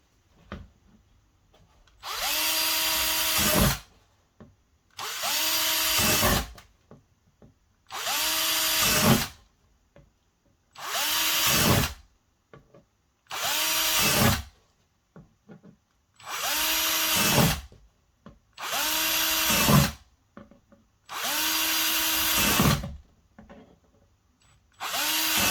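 A power drill drilling holes in a worm bin whines in eight or nine separate bursts of a couple of seconds each, with short pauses between, close and loud.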